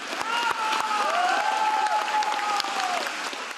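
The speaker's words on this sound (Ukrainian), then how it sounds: "Учасників концерту вітали шаленими оплесками." Concert audience gives enthusiastic applause, a dense continuous wash of clapping with some crowd voices and tonal sounds mixed in, steady and fairly loud throughout.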